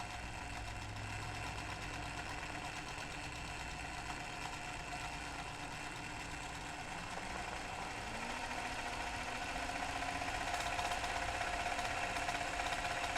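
A domestic sewing machine runs steadily through free-motion embroidery on clothing, giving a continuous mid-pitched mechanical hum with a faint rhythmic needle chatter that swells slightly toward the end.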